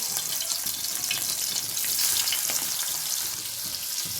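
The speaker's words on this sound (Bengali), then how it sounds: "যেহেতু চিংড়ি মাছ সেহেতু হালকা করে ভেজে নেব" Large freshwater prawns fry in hot oil in a home kitchen, a close, bright continuous sizzle with crackling spits, steady throughout with no talk.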